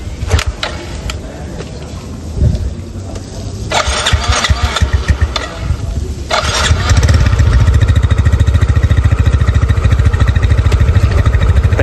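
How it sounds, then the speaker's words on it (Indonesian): A Yamaha Soul GT 115 scooter engine fitted with upgraded CVT parts idles unevenly with a few throttle blips, then revs up into a loud, steady drone close by, with no talk. "Oke, kita tes dulu motor ini."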